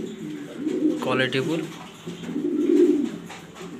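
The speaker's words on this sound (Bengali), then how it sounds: "খুবই ভালো মানের কবুতর" Black exhibition pigeons coo in low, throaty rolling bursts close by, with someone talking over part of the calls.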